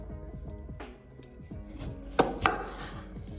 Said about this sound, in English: This one you just cut it right in the middle, and you spoon it.